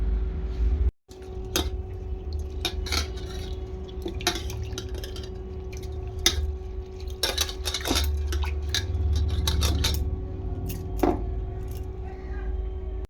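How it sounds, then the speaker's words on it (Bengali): Mung lentils being rinsed in a bowl by hand, giving a steady wet swishing with scattered clinks and knocks against the bowl, close and continuous. "ডাল ধোয়া কমপ্লিট হয়ে গেছে"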